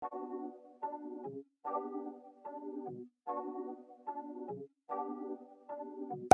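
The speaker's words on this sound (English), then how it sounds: "pitched it down like what, 1200 cents, which is like an octave down, and it sounds like this." The same one-shot melody pitched down an octave plays in four repeated phrases of stepped tones that drop at the end of each phrase, closing with a sharp click.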